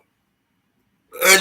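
One sharp, close sneeze bursts out at the very end after near silence, brief and fairly loud, during a live stream.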